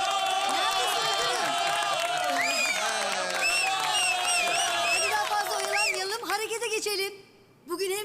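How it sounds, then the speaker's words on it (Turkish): A crowd of children in a school setting cheering and shouting excitedly, with high voices whooping over light applause, loud and dense, then briefly dropping away near the end. "Müdür Dilaver'e bir alkış."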